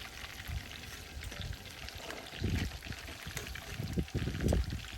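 Japanese karaage chicken wings bubble and crackle as they fry in oil, a close, continuous sputtering with louder gurgling bursts partway through and toward the end.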